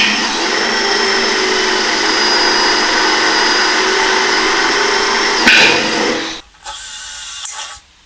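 A high-speed drill runs a 6.5 mm bit into metal on a sawmill guide with a loud, steady whine for about six seconds, then spins down and briefly revs again.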